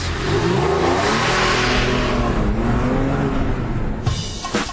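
An Audi R8 or Porsche Carrera 4S engine roars loudly and continuously during a hard launch, the revving sustained throughout before briefly easing near the end.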